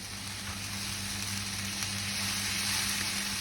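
Grated tomato dropped into a pan of sizzling onion and garlic gives a soft, steady frying hiss over a low background hum, fairly quiet and unbroken.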